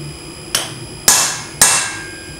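A hammer strikes a round punch driving through steel on an anvil: three sharp metallic taps at an even pace, each ringing briefly with a bright clang before fading, close and loud with no talk.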